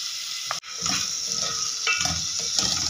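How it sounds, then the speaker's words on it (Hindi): Chopped onion sizzling and frying in melted ghee, with stirring scrapes and a brief clatter of a utensil against the pan, close and continuous. "इस प्याज को सौते करना है।"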